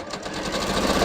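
A sewing machine stitches across a bias cut scoop neck top in one short, continuous, close whirring burst, with no voices.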